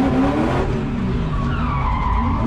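A car drifting with burning tires gives a loud, close, sustained screech of skidding rubber over a revving engine, the squeal shifting in pitch as the slide continues.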